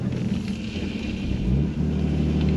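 A car engine at a drag strip revs loudly and close, holding a rough drone that climbs in pitch midway, with wind buffeting the microphone and no talk.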